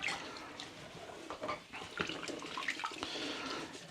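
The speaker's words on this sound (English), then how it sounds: "let me wash that gripper or whatever it's called" Water running and splashing as a garden gripper tool is rinsed, a steady wash of liquid noise with irregular splashes and clatters throughout, fairly close and with no talking.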